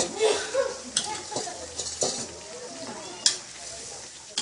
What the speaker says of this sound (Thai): ผัดเผ็ดปลาไหลใส่ใบกะเพรา